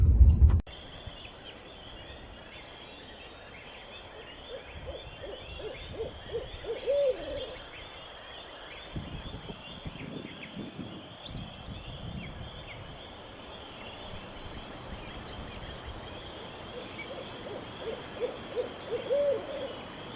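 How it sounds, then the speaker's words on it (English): Owls hoot faintly in the distance, a couple of soft calls separated by long stretches of quiet outdoor ambience after a brief thump at the start. "I had a bunch of owls go off in front of me"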